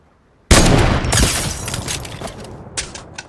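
Gunfire in Fortnite: a sharp loud burst of shots breaks out of silence, followed by a few more scattered reports that fade and recur toward the end.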